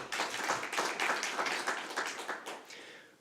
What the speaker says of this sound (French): On l'applaudit, on l'encourage.